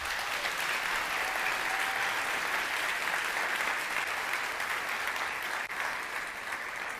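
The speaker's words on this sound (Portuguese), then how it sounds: "Uma salva de palmas para a Natália." An audience claps in sustained, dense applause that holds steady at close range for the full stretch, with no voices heard over it.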